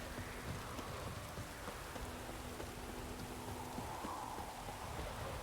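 Rain falls steadily in The Witcher 3, a soft even hiss of drops with faint clip-clop like hoof sounds and quiet background tones, fairly low in level.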